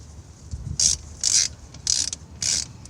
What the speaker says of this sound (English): Caliper bolt goes in. Tighten up that one bolt.